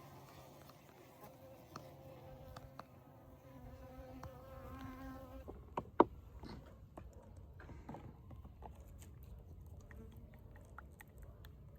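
Honeybees buzz in a continuous faint hum at a hive being opened for a November inspection and feeding, with scattered clicks, knocks and a sharp tap partway through.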